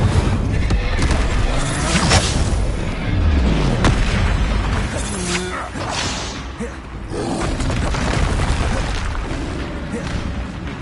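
Spell combat in Hogwarts Legacy, with repeated Incendio fire spells cast amid explosive booms, whooshing bursts and heavy impacts in a continuous loud fight, while a character shouts over the action.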